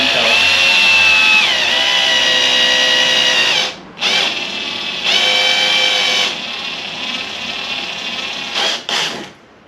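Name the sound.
power drill drilling 12 mm hole in plastic water tank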